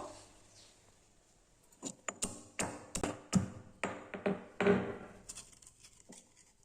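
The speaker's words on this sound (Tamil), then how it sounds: "இந்த மாதிரி நசுக்குனா போதும் இப்போ எல்லா நண்டையும் நம்ம தட்டி எடுத்தாச்சு" Crabs pounded and crushed for crab rasam, a run of about a dozen sharp, close taps in an uneven rhythm, building after a quiet start with no talk.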